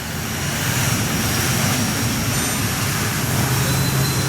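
An inverter air conditioner's fan motor hums and whirs steadily at close range, a constant broadband drone with a low tonal hum and no talking.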